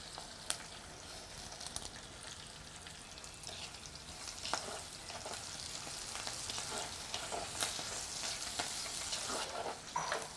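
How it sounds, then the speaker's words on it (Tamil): Quiet, continuous sizzling of onions, green chilies and curry leaves frying in a pan, with occasional stirring scrapes and small crackles. "இப்போ வந்து இந்த மாதிரி வதங்கினதுக்கு அப்புறம் வெங்காயம், பச்சை மிளகாய் எல்லாம் கருவேப்பமில்லை சேர்த்துருவோம்"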